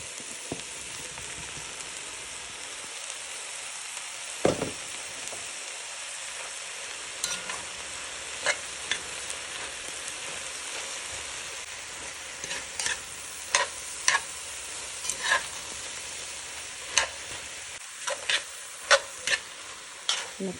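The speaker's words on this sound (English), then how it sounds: "Add in my cherry tomatoes. I'm going to saute these a little bit." Cherry tomatoes sautéing in a pan for a beef cheek stew, a steady close sizzle broken by scattered sharp clicks and scrapes of a utensil stirring, no talking.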